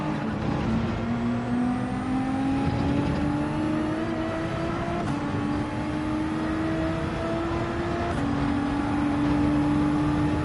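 Race car engine in Gran Turismo 7 during a Nations Cup race at Daytona Road Course, droning loud and steady as it holds high revs, pitch climbing gradually through gears with brief shifts, continuous for the whole stretch.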